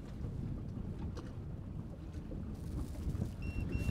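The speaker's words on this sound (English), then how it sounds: "So I've turned the engine fully to starboard right now." Low, rumbling engine drone from a Ribeye boat turning hard to starboard under joystick control, with gusty wind buffeting the microphone and water noise around it.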